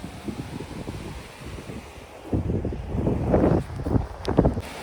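A strong wind buffets the microphone on a seashore during net fishing, giving low rumbling gusts that swell louder in the second half, with faint surf behind and no talking.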